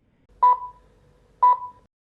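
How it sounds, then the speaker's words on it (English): A LaView R12 outdoor security camera sounding two identical short electronic beeps about a second apart, clear and close, as it enters standby ready for network setup, with near silence around them. "After the device is in standby status and ready for network configuration, you will hear 2 beeps"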